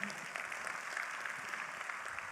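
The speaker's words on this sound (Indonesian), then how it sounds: "Kalau tidak tepuk tangan dulu." A roomful of people at a business leadership training session claps along together, a steady, fairly distant patter of hands filling the whole short stretch.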